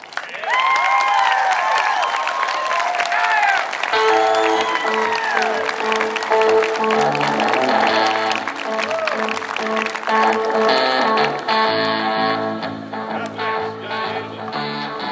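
A rally crowd in King, North Carolina applauds a speaker, broad steady clapping and cheering filling the space, with music and voices rising underneath partway through.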